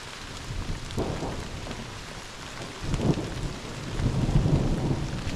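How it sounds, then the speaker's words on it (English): Thunder rumbles low and rolling through a steady outdoor rainstorm beside a filling pond, with several swelling rumbles over the constant patter of rain and no voices. "Thunder."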